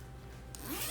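A zipper closing on a filled Erin Condren planner bag, one quick raspy pull that brightens and grows slightly louder toward the end, close and alone.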